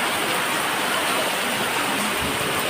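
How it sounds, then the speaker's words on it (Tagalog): Heavy rain pours steadily with gusting wind during a night storm in Marikina, a dense, constant roar of water with no voices and no break in the downpour. "Lumalakas na yung ulan at hangin."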